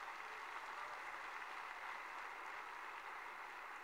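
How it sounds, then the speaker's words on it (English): Audience applause at the opening of a global summit in Tbilisi, Georgia, a faint, even wash of distant clapping from a large hall, sustained for about four seconds. "I think you can give yourselves a big round of applause to start this fantastic event."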